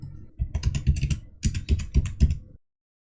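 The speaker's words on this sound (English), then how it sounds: "Retype the password." A password being typed on a computer keyboard in crisp, close key clicks that come in two quick bursts with a short pause between them, ending in silence.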